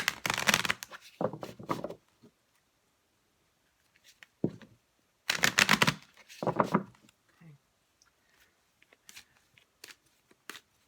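Energy cards being shuffled, two crisp riffling bursts near the start and middle separated by quiet stretches, with a few soft taps and card handling sounds toward the end.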